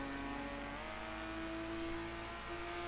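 Car engine in the racing game The Crew holds a high, steady revving drone near the redline, a continuous buzzing tone with a slightly glitchy, bugged quality and no talk.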